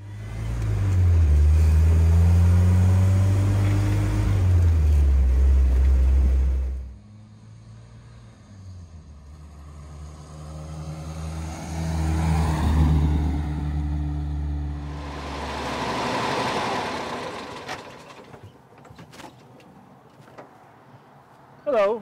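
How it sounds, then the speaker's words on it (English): A 1951 unrestored, all-original Volkswagen Beetle with a 50 horsepower 1221cc inline four-cylinder and four-speed gearbox runs with a loud, close, low engine drone for about seven seconds, then fades to a quieter hum while someone talks over it. "Power came from a 50 horsepower, 1221cc inline 4-cylinder with 4-speed gearbox."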